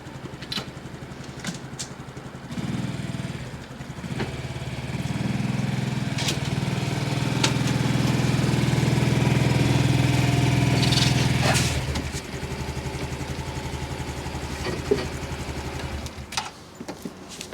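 A motorcycle engine idles and then rises to a steadier, louder running drone for several seconds before settling back, heard from a short distance while the bike is moved out of storage.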